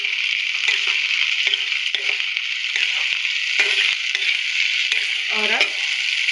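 Dried coconut fries in a pan for matar paneer, a steady close hiss of sizzling with occasional light scrapes and a brief voice near the end.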